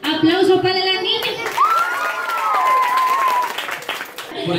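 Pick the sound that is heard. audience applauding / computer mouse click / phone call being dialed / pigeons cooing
audience applauding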